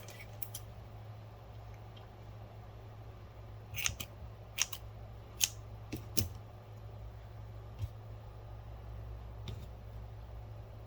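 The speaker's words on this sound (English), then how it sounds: "We're going to lock it in, pull it tight, and we're going to cut it off." Scissors snipping crochet yarn during a tapestry crochet color change, a few sharp close clicks and snips spaced apart over a steady low hum.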